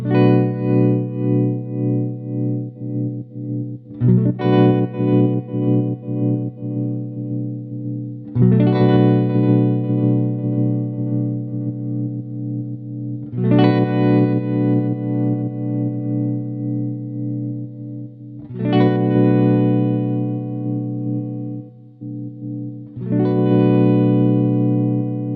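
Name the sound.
Walrus Audio Monumental tremolo pedal sweeping through shapes on guitar chord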